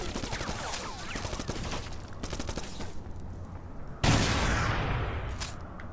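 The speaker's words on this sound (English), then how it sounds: "I can hear gunfire on the left" Rapid bursts of video game gunfire crackle in quick succession, followed by a louder blast partway through, with distant shooting continuing afterward, in Black on the original Xbox.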